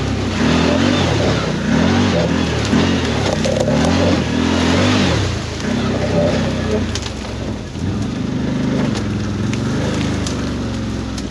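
A CFMOTO Z-Force 950 HO EX side-by-side with its locker engaged drives along a muddy trail, its engine revving and easing in waves, loud and close, with rough rumbling from the ground.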